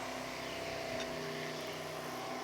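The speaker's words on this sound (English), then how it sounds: "Right here's a helicopter, and we've got jet boat rides." A helicopter and a jet boat pass at a distance, blending into a low, steady droning hum of engine and rotor that holds at an even, faint level without any voices.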